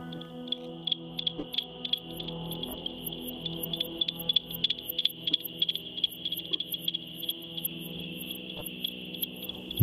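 Ultrasonic bat calls in Dalby Forest, Yorkshire, made audible by sensitive microphones, come as rapid, irregular ticking pulses over a steady high whine, fairly faint against a low forest background.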